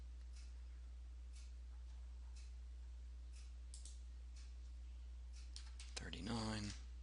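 Computer mouse clicking during CAD drafting: several faint, sparse single clicks spaced across a quiet room, followed by a brief burst of voice near the end.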